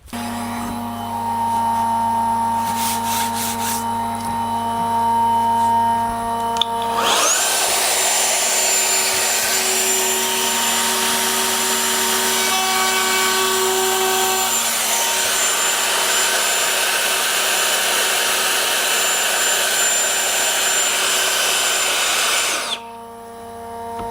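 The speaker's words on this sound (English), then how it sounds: "So I'll turn on my vacuum pump to hold my piece, and then I'll do a test pass" A vacuum pump hums steadily while a Festool MFK 700 trim router spins up and makes a test pass, a loud continuous whine and cutting roar lasting about fifteen seconds before winding down, with no talking.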